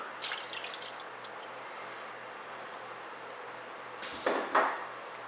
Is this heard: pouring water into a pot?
yes